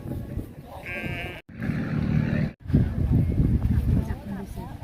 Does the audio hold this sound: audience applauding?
no